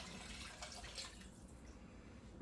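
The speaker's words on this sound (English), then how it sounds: "So here is 8 cups of chicken broth. Pour that in." Chicken broth pours into a soup pot as a soft, steady liquid splash and gurgle that continues throughout, quiet and close, with no voices.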